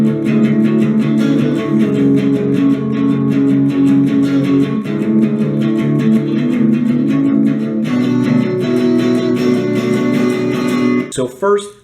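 Electric guitar playing the pre-chorus of a song, steady strummed chords ringing continuously and loud, with a short break near the end.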